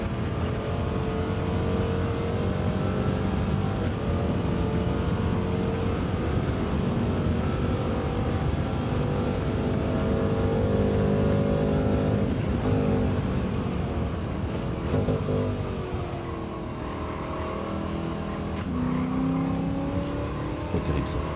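A race car engine at Monza in Gran Turismo 7 drones steadily and loudly throughout, its pitch rising and dipping with throttle changes. Someone talks over it.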